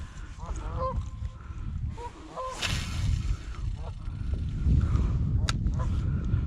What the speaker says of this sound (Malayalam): ഈ പക്ഷികളുടെ കളകൂജനം കാരണം